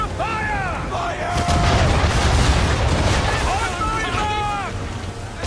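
Cannon fire in an Assassin's Creed III naval battle, a broad rumbling boom sustained for several seconds among wind and sea noise, with shouted voices over it.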